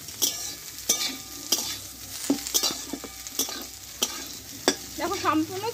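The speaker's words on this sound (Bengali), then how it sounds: "এখানে বরবটিটা আমি কষিয়ে নিয়েছি ভালোভাবে" Yardlong beans sizzle in a pan as a spatula stirs them, with sharp regular scrapes and clinks against the metal over a steady frying hiss.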